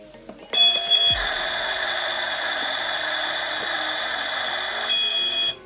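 A steady electronic beeping tone from a Barbie toy stove plays continuously for about four seconds, loud and close, with clicks at the start and end.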